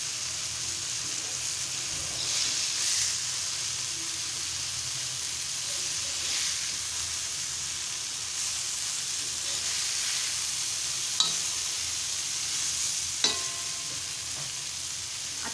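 Malvani-style fish frying in a pan and slowly turned, giving a steady close sizzle and hiss with occasional soft scrapes and a couple of sharp clinks.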